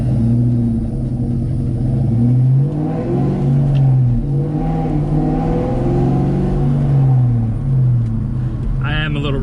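A 1997 car on the move, its engine droning and rumbling steadily with shifting low harmonics as it revs and settles, close and continuous for the whole stretch.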